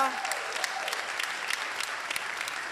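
A church congregation gives steady, dense applause that holds at an even level throughout, with no break in the clapping.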